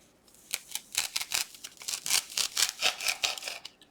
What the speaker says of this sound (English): I'm cutting this in half.